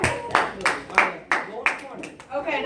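An audience claps for a presenter in a class setting, heard as a steady run of crisp, evenly spaced hand claps, fairly close and moderately loud, with voices talking over them.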